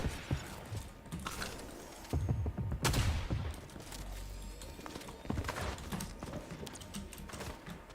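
Gunshots in Fortnite crack in scattered bursts mixed with clattering footsteps and game effects, several sharp loud reports standing out amid busy background noise.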